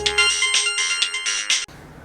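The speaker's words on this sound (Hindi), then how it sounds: "किसी नावेद का फ़ोन है।" A mobile phone ringtone sounds in a Hindi romantic film scene: a clear, bright electronic melody in several quick repeated bursts, loud with no talk over it, stopping suddenly before a quiet tail.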